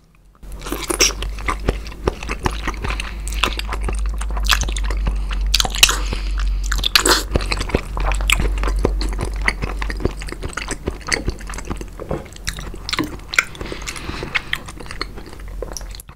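Close, crisp chewing and biting while eating raw salmon noodles, with repeated wet crunches and smacks in an irregular rhythm, loud and intimate with no talking.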